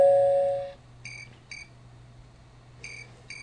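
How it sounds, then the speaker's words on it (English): Electronic doorbell chime from the video game Maniac Mansion Deluxe, a short high tone followed by three quick repeated bleeps over a steady low hum. "Push the doorbell."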